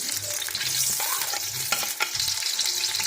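Onions sizzling and frying in about a cup of oil for jaggery rice, a steady close hiss with occasional stirring clatter, no voices.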